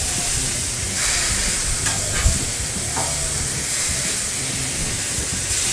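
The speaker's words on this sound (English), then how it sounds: "Go ahead and give our patties a flip. Get some cooking on that other side." Sausage patties cook on a Blackstone griddle with a loud, steady sizzle and hiss that carries on unbroken, with no voices.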